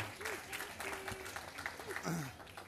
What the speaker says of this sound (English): round of applause for both families at the front there